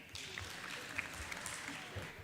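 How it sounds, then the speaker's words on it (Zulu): Soft, fairly distant hand clapping from an audience at a creatives gathering, a light patter of claps running steadily through the short stretch with a few sharper claps standing out. "sishayele izandla"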